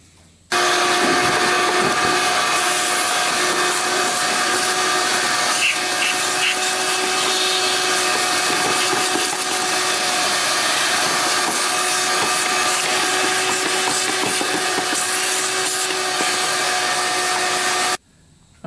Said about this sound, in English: Alright, let's vacuum that out.